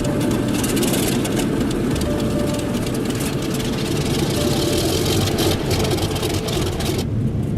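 A steady, loud roar of C-46 aircraft engines starting and idling, a rough, throbbing low rumble, cutting off abruptly near the end.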